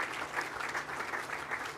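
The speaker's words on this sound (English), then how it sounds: "Give them both a round of applause." An audience applauds steadily at a medical college announcement in New Orleans, a dense, continuous wash of clapping with no voices over it.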